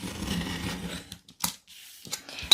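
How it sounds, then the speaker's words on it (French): A utility knife slices through a clear plastic storage pouch: a rustling scrape, then a few short, sharp cutting snips spaced apart, close and fairly quiet. "Donc je vais faire ça avec un cutter, mais vous pouvez très bien faire ça avec une paire de ciseaux."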